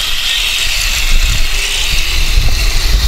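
A Heng Long German Tiger 1 airsoft RC tank at 1:16 scale accelerates with a loud, steady high-revving simulated engine drone and hiss, up close with no talking.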